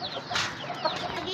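A hen clucks in short repeated calls close by in a farmyard setting, with other faint bird chatter around it and no talk.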